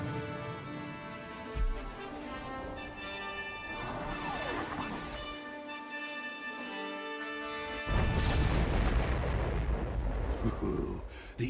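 Artillery strike in the Star Wars: The Old Republic video game, with loud booming explosions and crashing impacts rolling one after another, swelling into a heavier, sustained barrage toward the end.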